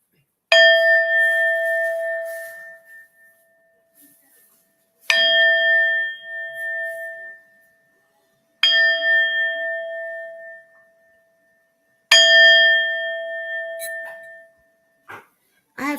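A Tibetan singing bowl is struck by rings four times at a few-second intervals, each hit ringing clearly up close and decaying before the next, with faint small clicks near the end.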